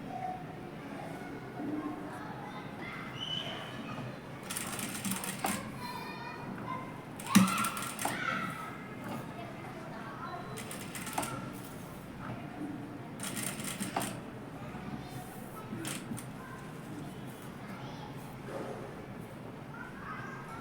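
A sewing machine stitches a blouse in short rattling bursts separated by pauses, heard fairly faint against a soft background hum.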